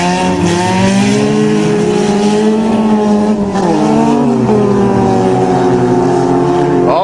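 Engines of Toyota and Nissan cars rev steadily in an offroad race, several motors whining together at high pitch with rising and falling tones, loud and continuous, close by.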